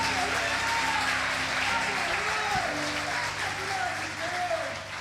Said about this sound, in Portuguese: Você pode dar um forte aplauso a Ele.